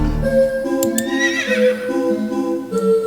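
Horse neighing in the video game Horse Magnifier: a loud, close whinny with a rising and falling pitch, lasting about three seconds over a faint musical background.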